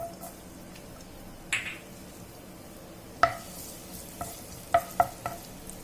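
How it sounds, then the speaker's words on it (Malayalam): Finely chopped garlic dropped into hot oil for veg Manchurian gives a low steady sizzle, with a few sharp clinks of a spoon against the pan standing out above it. "എണ്ണ ചൂടായിട്ടുണ്ട്, അതിലേക്ക് ഞാൻ ചെറുതായി ചോപ്പ് ചെയ്ത വെളുത്തുള്ളി ഇടുകയാണ്."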